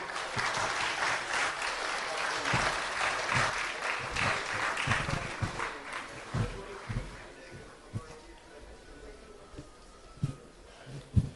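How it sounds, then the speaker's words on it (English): An audience applauds at a literature event, sustained clapping that gradually thins into scattered claps toward the end. "can we have a big round of applause?"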